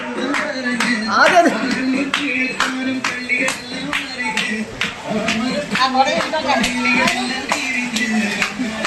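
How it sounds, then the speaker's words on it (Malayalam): Children clap in quick, uneven bursts at a family gathering in the rain, close and fairly loud, while voices talk over the clapping throughout. "കയ്യടിക്ക് മക്കളെ"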